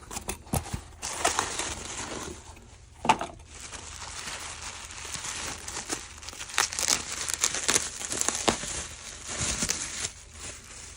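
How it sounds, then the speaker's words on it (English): A new ADF motor for an HP M527 printer being unwrapped from its packaging, with close, irregular crinkling and rustling of plastic and paper, sharp tearing bursts, and steady handling noise throughout. "Go ahead and unwrap it."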